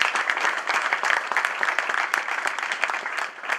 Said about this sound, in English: Let's give Shane Brooks a round of applause.